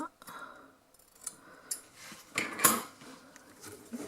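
Scissors snip through cardboard while a cartonnage sewing box is being made, a few crisp cuts and clicks spread across a quiet stretch with a bright cluster near the middle, faint voice murmurs in the background.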